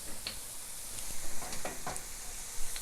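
Plantains frying in a pan for tostones, a constant close hissing sizzle with a few soft pops and stirring clicks, with no talking.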